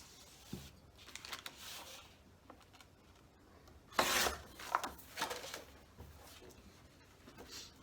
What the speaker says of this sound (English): So I'm going to cut this at 4 inches.